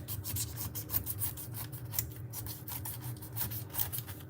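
A knife saws through a hard pineapple core with rough, rasping scrapes in quick repeated strokes, close and fairly quiet, with no talk.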